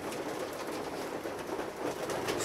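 Male racing pigeons coo steadily inside a pigeon loft housing about a hundred birds, a soft continuous murmur of overlapping low calls close by.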